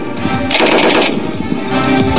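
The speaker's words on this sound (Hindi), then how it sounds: "30 mm AGS यानी ऑटोमेटिक ग्रेनेड लॉन्चर सिस्टम, मारक क्षमता 1700 मीटर।" A 30 mm AGS automatic grenade launcher fires loud, rapid bursts of heavy repeating shots at a CRPF training range, close and dominant across the short clip.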